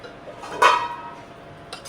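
Metal utensils clink against a pressure cooker as its contents are emptied out, one sharp metallic clank followed by fainter scraping and a couple of light knocks over kitchen hiss.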